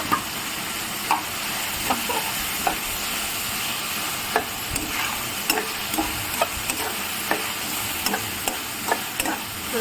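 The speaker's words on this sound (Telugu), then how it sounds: "పసుపు రాళ్ళు ఉప్పు వేసుకున్నాక కలబెడుతున్నాను" Turmeric and rock salt being stirred into mint chutney in a pan, with repeated soft scraping clicks of a spoon over a steady sizzling hiss, no voices.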